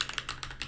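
Quick, light keystrokes on a computer keyboard, about half a dozen soft clicks in an even burst, close and fairly quiet.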